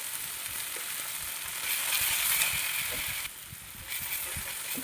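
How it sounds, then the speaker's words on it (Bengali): Chicken pieces frying in a pan with turmeric, chilli and cumin powder, a steady loud sizzle that swells midway and briefly drops before resuming, with faint stirring scrapes and no voices. "দিয়ে ভালো করে একটু কষিয়ে নেব।"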